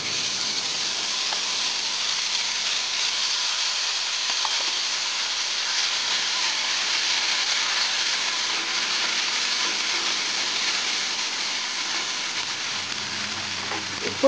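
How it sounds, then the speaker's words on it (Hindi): Mustard paste frying in hot mustard oil in a kadai for a Cathala fish curry, a steady loud sizzle and crackle that runs unbroken and close, with no voices. "कड़ाई रे सोरिष तेल को गरम करवा और बाटी रखि सोरिष मसला को दबा।"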